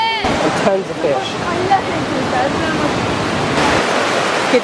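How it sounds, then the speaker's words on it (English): A waterfall at Plitvice Lakes in Croatia roars as a loud, continuous rush of falling water close by, while a person talks briefly over it near the start. "And then across here, another waterfall."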